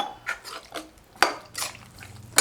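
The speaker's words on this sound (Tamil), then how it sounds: "தேவையான அளவுக்கு தண்ணி சேர்த்துக்கலாம் ஒரு முந்நூறு எம்எல் பக்கம் தண்ணி விட்டுருக்கேங்க" Water being poured into a pot of bottle gourd and cowpea curry, soft splashing and trickling with light clinks of metal cookware, close by and without talk.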